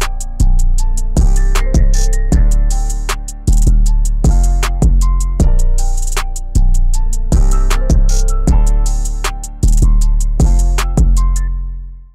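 A melodic hip-hop beat made in FL Studio, with booming 808 bass hits and crisp hi-hats under a looping melody, loud and rhythmic throughout.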